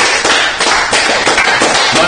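A small group clapping for eliminated contestant Vance, loud close-up claps in an uneven rhythm with a few sharper slaps standing out.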